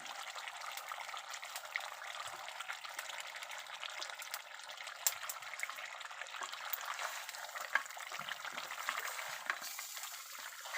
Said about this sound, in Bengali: আলু সহ আরেকবার কষিয়ে নিচ্ছি।